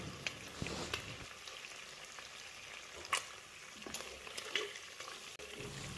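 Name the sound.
shrimp frying in oil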